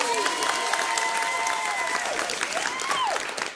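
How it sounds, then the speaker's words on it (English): An audience at a bomba night applauds and cheers in a lively room, the clapping running under a voice that sings or calls out with rising and falling pitch. "Can we get a round of applause?"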